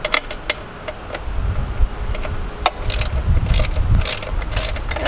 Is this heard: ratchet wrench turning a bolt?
yes